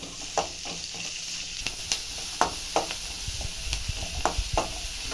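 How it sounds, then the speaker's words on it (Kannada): Onion and garlic frying in oil for a vegetable sambar, a steady close sizzle broken by stirring scrapes and soft spoon knocks, with no voices. "ಬೆಳ್ಳುಳ್ಳಿ ಮೀಡಿಯಮ್ ಸೈಜ್ ಈರುಳ್ಳಿ ಈ ಎಣ್ಣೆಯಲ್ಲಿ ಒಂದು ಐದು ನಿಮಿಷ ಫ್ರೈ ಮಾಡ್ಕೊಂಡು"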